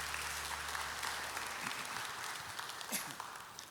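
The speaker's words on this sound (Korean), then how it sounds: "우리 서로에게 한번 사랑의 박수, 환영의 박수 하겠습니다" Welcoming applause from a church congregation at a newcomers' worship service, a steady wash of many hands clapping throughout, with a brief voice near the end.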